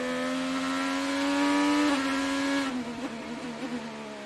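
An onboard race car engine at the Firestone Grand Prix of Monterey screams at a steady high pitch, then drops sharply as the driver downshifts under braking, the note stuttering and falling away into lower, rougher tones.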